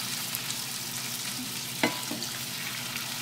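Roma tomatoes from a home garden sautéing in a pan, a steady broadband sizzle with a single sharp utensil clack partway through as they are stirred, no voices.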